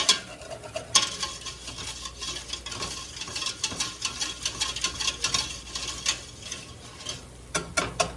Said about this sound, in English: So I'm going to stir it around in here, and we'll watch it when that flour starts changing color a little bit.